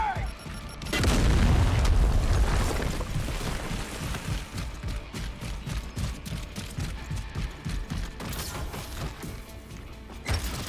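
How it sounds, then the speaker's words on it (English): A frag grenade goes off in Gears of War with a loud, deep boom that rolls out over a couple of seconds, followed by continuing gunfire and game noise. "Throwing frag!"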